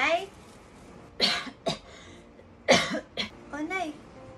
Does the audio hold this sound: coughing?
yes